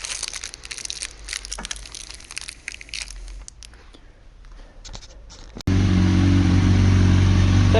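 A KTM 500 EXC motorcycle engine fires up abruptly after a few seconds of clattering and handling noises, then runs at a loud, steady idle close by.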